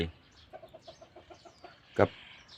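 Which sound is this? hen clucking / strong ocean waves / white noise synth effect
hen clucking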